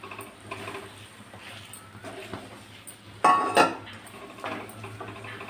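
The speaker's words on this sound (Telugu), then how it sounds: "ఇప్పుడు వంకాయలు అయితే ఇందులో వేద్దాము" Eggplants dropped into a pan of cooked spice paste for a stuffed brinjal curry, a brief clatter of vegetables and utensil against the pan midway, with soft scraping and clinks before and after over a low steady hum.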